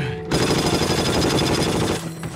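Sustained automatic gunfire rattles loud and close for about two seconds in a World War II battle at Foy in Hell Let Loose, a dense rapid burst that stops abruptly.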